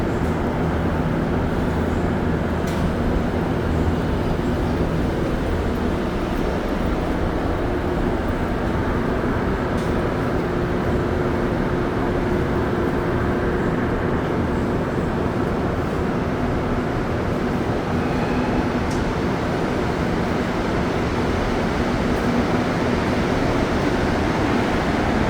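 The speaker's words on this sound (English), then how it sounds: "So this train that we're on now is probably going to wait for the Montmorency direction trains, the last one to arrive." Montreal STM metro train on the Green Line, heard from aboard: a steady, loud rumble with a low hum and faint tonal whine running the whole time, no speech.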